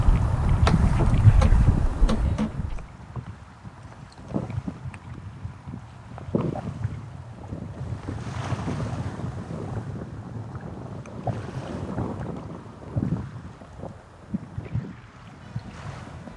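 A sailboat moves through a passage off the north side of Tortola in the British Virgin Islands. Heavy wind buffets the microphone at first, then water rushes and wind gusts continue steadily.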